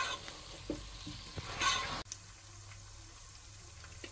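Tomatoes and green chillies frying in a pan with coriander and cumin, giving a steady close sizzle with a brief louder burst in the middle and soft stirring scrapes, no voices.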